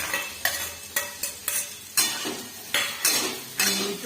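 Spiced okra is stir-fried with black masala in a pan, a spatula scraping and tapping the metal in about eight sharp, evenly spaced strokes over a steady sizzle, close and clear.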